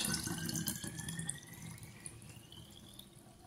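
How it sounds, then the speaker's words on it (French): Water from a tap runs steadily into a bottle, a continuous close splashing hiss whose pitch slowly rises as the bottle fills. "Et maintenant, je vais compléter avec de l'eau."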